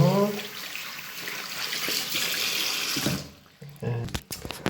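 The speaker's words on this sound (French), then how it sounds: "Après, je vais rincer mon truc, mon gant." Tap water runs steadily into a sink as a washcloth glove is rinsed under it during an evening routine, a broad close hiss that cuts out near the end, followed by a few small splashes and wet handling sounds.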